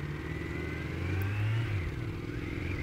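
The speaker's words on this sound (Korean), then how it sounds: "엔진 소리 아주 그 기가 막히네요. 4기통이라 그런지 아주 뭐 부드럽고 좀 매끄러운 느낌이 듭니다" A Kawasaki Z900's four-cylinder engine hums smoothly and revs briefly, a steady mid-pitched drone heard up close.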